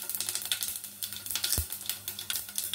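Cumin seeds and asafoetida hit hot oil in a pan, giving a bright, steady crackling sizzle with rapid popping and a small clunk partway through, close and alone without talk.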